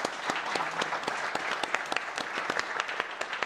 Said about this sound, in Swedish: vi tackar panelen med en applåd.